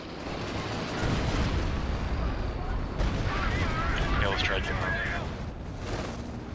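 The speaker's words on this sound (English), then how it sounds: "Stuka firing!" Walking Stuka rocket artillery barrage in Company of Heroes 2, a loud sustained rumble of launches and blasts across a 4v4 battle, with crackling bursts in the middle and voices talking over it.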